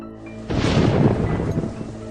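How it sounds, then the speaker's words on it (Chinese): Rain and thunder in an animated scene: a sudden, loud rumbling wash of thunder over steady rainfall that swells and then settles back to a constant downpour. "下雨了。"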